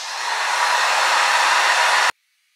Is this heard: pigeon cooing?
no